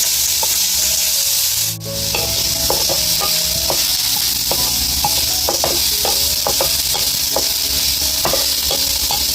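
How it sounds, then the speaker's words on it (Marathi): Onion fries in a pan with a steady loud sizzle throughout, punctuated by intermittent clicks and taps of a utensil stirring close by. "कांदा टाकून घेते."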